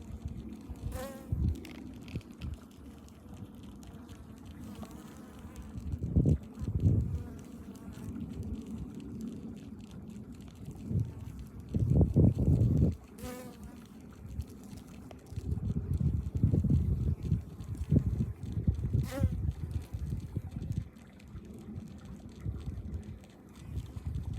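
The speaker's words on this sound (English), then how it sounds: "This is a very active hive." Honeybees buzz steadily in an active hive, a dense continuous drone with louder swells as bees move close by, no talking over it.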